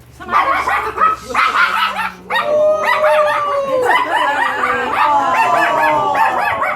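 A dog on a live show set barks and yips in quick bursts, close and loud, with a few whimpering tones between barks.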